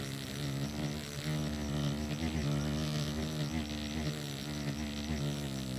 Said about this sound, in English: the wasps that are on the feeder